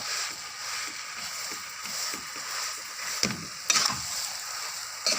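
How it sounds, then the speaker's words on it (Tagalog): Sticky biko rice cake being stirred in a pan, a steady close scraping and soft sizzling churn with a couple of sharper clacks near the end. "Haluin po na mabuti yan para ma-absorb lahat yung tamis niya."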